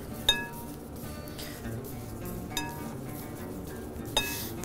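Drained canned artichoke hearts are stirred into a cheese and breadcrumb dredge in a bowl, giving a soft ongoing rustle broken by three distinct clinks of a utensil against the dish.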